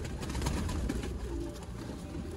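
Pigeons released into a loft, a dense, fairly loud murmur of overlapping coos and wing rustle, continuous and close, with no talk.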